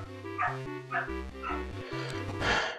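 A dog in the game The Minish Cap barks a few quick, short yips in a row, with background music running underneath.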